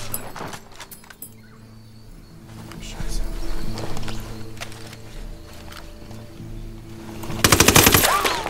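Bursts of automatic gunfire from the video game Ghost Recon Wildlands, with sharp shots near the start, scattered reports through the middle and a loud cluster of rapid shots near the end, under a low ambient game bed.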